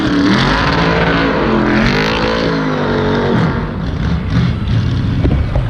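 Race cars running figure-8 races around a track, engines roaring loudly and continuously up close, revving and passing with shifting pitch throughout.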